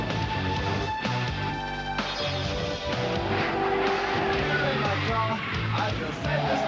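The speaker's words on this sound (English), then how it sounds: "You hear those motors? Man, those things are singing." NASCAR Busch Series race cars at the 2002 Carquest Auto Parts 300 roar past with loud, continuous engine drone and shifting pitch, tones rising and falling as cars pass amid dense track noise.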